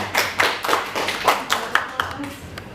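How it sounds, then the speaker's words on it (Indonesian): Audience members at a school training session clap for a question in a quick, patterned rhythm of distinct hand claps, fairly faint, with some voices underneath. "Tepuk tangan untuk pertanyaan Pak Joni"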